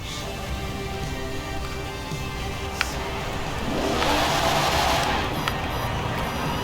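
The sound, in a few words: BMW 850CSI turbo engine accelerating, from video game Forza Horizon 4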